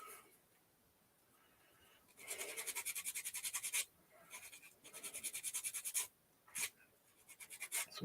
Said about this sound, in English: My ball socket needs cleaned up too. Let's do that with